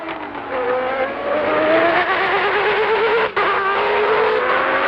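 Damon Hill's Formula 1 car at the 1993 Brazilian Grand Prix screams up through the gears, a loud high-pitched engine whine rising and then dropping sharply at each upshift, heard close and continuous.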